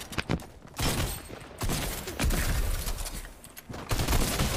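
Shotgun blasts in the video game Rumble, rendered as loud, broadband bursts in rapid, uneven succession, separated by brief gaps of lower-level game noise.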